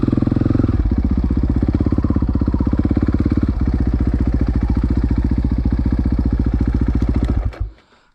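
A warmed-up dirt bike engine idles with a steady, fast, even putter, loud and close, then cuts out abruptly near the end.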